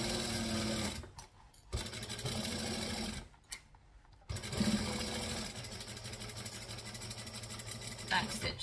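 A sewing machine stitching and backstitching a beanie baguette project, running in short bursts with brief pauses in between, close and fairly steady, with a person speaking faintly at times.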